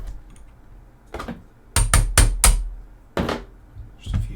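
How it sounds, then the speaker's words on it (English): A small hammer taps a front sight pin out of an airsoft Lee Enfield rifle: two lone knocks, then a quick burst of four sharp metallic strikes and two more spaced taps, close and distinct. "Tap slightly with a little hammer"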